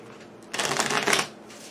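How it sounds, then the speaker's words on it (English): A deck of Pandemic Legacy board game cards is riffle-shuffled in one quick, crisp burst lasting under a second, close and clear against a quiet room. "So let's give this a shuffle."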